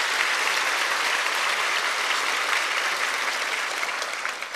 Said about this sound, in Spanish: vamos a aplaudir por el coro.